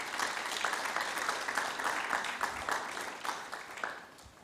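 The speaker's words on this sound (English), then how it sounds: "let's give her a round of applause to encourage her" Applause from an audience at a festival gathering, a dense steady clatter of many hands clapping throughout, fairly loud and close, tapering slightly toward the end.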